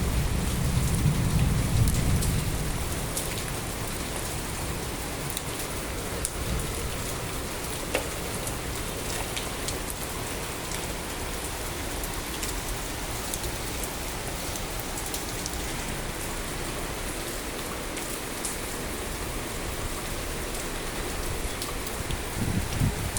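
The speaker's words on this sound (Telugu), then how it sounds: "వైజాగ్లో అంతా ఫుల్గా వర్షం వస్తుంది చూడండి" Heavy rain in Visakhapatnam pours steadily on surfaces and plants, a dense continuous hiss with a brief low rumble at the start, and no talking.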